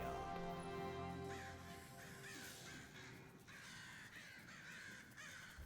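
Crows cawing in the Destiny 2 video game, a series of harsh repeated caws at moderate loudness over a steady ambient game background with no talking.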